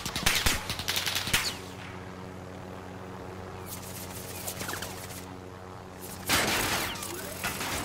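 Enemy gunfire in Call of Duty Warzone, rapid bursts of automatic shots at the start and again near the end, loud and crackling over a steady engine-like background rumble.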